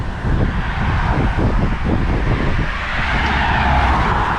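A car drives past on a road near a caravan park campsite, a broad rumbling whoosh that swells and fades over a few seconds, mixed with heavy wind buffeting on the microphone.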